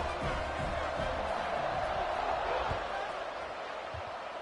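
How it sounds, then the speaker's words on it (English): Steady crowd buzz from a football video game stadium after a score, a dense continuous roar with a few faint thumps, heard under a sports commentator's voice. "this crowd is buzzing after that last score"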